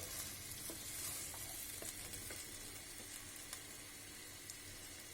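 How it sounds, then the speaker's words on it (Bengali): Spices with green chillies, garlic paste and coriander powder are stirred in a frying pan for a bitter gourd, potato and dried fish dish, making a faint steady sizzle with a few soft spoon scrapes. "এখন আমি মশলাটাকে ভালো করে একটু নাড়িয়ে দিই।"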